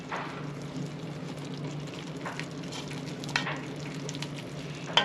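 Flour being stirred into a roux for crawfish etouffee, a steady low sizzle in the pot with a few sharper scrapes and clicks of the utensil, fairly quiet and without talk.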